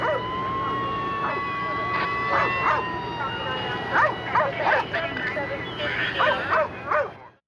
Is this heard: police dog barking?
yes